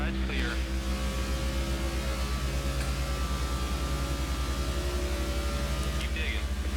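Race car engines in NASCAR 15 at Kansas hold a loud, steady droning hum throughout, with a commentator talking over the engine noise.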